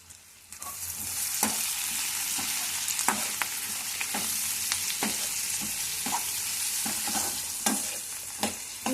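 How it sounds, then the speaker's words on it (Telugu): Stuffed bitter gourd frying in a pan until its colour turns light golden brown, a steady loud sizzle with repeated spoon taps and scrapes at irregular intervals and no talk over it. "కొంచెం కలర్ చేంజ్ అయ్యేదాకా ఫ్రై చేసుకోవాలి గాయస్."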